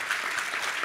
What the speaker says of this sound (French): Oui, oui, on peut l'applaudir, bien sûr.